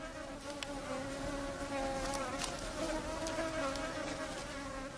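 Mosquitoes at a Sahara desert oasis make a continuous, whining buzz, several insects overlapping close by at a steady, moderate volume.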